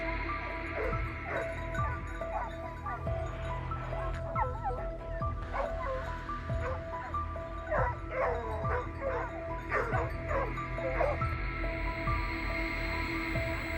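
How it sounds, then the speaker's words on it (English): Hunting dogs bark and yip repeatedly at the foot of a grassy hill during a wild boar hunt, a steady series of sharp calls at middle distance over a constant background hum. "The dogs were still sniffing and barking down at the foot of the hill"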